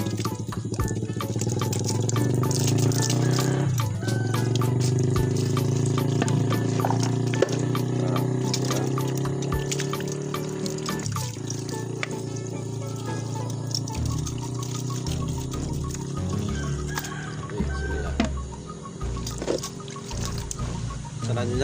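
Water pours and trickles while a Solaris Lion Star hot water thermos is rinsed, a steady splashing flow that runs throughout under a busy background with some talk.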